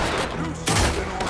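Gunfire erupts in Red Dead Redemption 2 gameplay, a loud burst of overlapping shots with a sharp blast partway through, dense and close amid game noise.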